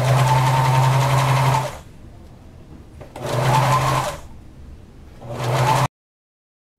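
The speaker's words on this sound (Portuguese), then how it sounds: "Não preciso de esticar esse elástico, tá? Só segurar e costurar." Sewing machine running zigzag stitches onto elastic fabric, whirring loudly and close in three bursts of steady motor hum separated by short pauses, with no voices.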